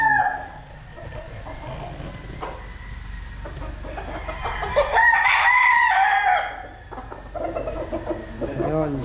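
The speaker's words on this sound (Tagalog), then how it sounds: "So ngayon magsiselect tayo ng ating mga kukunin na manok." Roosters crow and chickens cluck at a gamefowl farm, several birds calling close by with a loud crow rising in the middle, over steady farmyard background noise.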